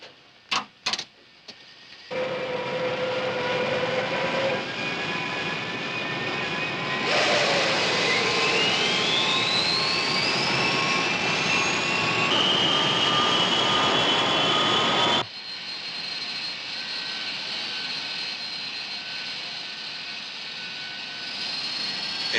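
Airliner engines in a 1964 film spool up from idle to a loud, rising roar for takeoff, with whining tones sweeping upward before the noise settles to a steadier level.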